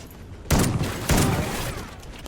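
Two loud shotgun blasts from the pump-action shotgun in Call of Duty, sharp and close, spaced about half a second apart, each followed by a lingering rumbling decay with no talk over them.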